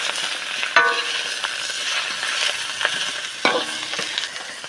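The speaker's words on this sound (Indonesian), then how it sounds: "Goreng ikan asin." Salted fish fries in a pan for Sundanese cooking, a continuous loud sizzle with occasional clinks and scrapes of stirring.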